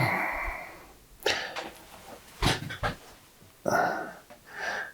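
Dogs pant close by in rapid, breathy bursts with snorting huffs between them, several loud clusters separated by quieter stretches, with no talking.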